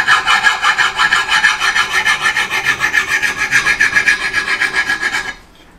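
A metal file rasps rhythmically along an axe blade clamped in a vise, loud and close, with steady back-and-forth strokes for about five seconds before stopping abruptly.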